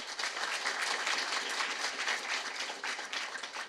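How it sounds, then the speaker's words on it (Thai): An audience at a seminar gives a doctor a round of applause, an even, moderately loud clatter of many hands heard from a distance and holding steady to the end. "ขอเสียงปรบมือให้กับคุณหมออีกครั้งนึงครับ"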